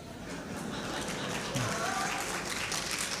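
An audience at a literature festival conversation claps, a dense continuous patter of applause at moderate distance, with a voice briefly audible partway through.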